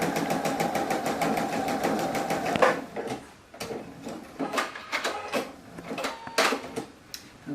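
Sewing machine stitching a quilt block onto a row of a half log cabin quilt, a steady mechanical whir for the first few seconds, then stopping into scattered handling clicks and fabric rustles.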